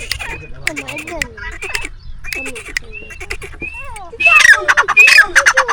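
A caged bird in a Pakistani village lets out shrill whistles and harsh, angry squawks, building to loud, rapid bursts near the end, with people talking close by throughout.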